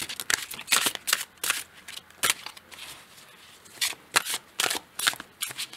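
Oracle cards being shuffled by hand, a run of quick crisp riffling bursts with short pauses between them, close and fairly quiet with no talking.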